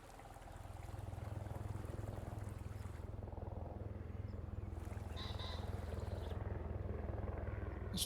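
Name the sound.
water ambience in a farming video game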